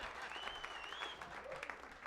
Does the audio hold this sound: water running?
no